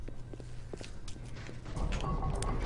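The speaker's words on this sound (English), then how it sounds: "Where are the footsteps coming from?" Footsteps in BioShock, a soft run of steps amid busy game ambience with a low steady hum, growing denser and louder toward the end.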